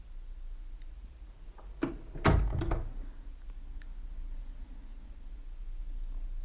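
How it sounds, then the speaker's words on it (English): A door closes in a radio drama, heard as a brief series of clicks and a solid thunk near the middle, set against quiet background hiss. "I went in and closed the door behind me"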